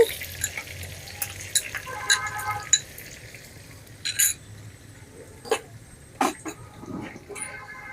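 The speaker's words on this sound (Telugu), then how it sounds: "ఆనియన్ని బాగా వేయించుకున్నాం, పచ్చివాసన పోయేంత వరకు వేయించుకోవాలి ఆనియన్ అనేది" Onion paste fries in a clay pot, a soft sizzle beneath intermittent stirring scrapes and clicks, close and moderately quiet, with a brief cough-like sound partway through.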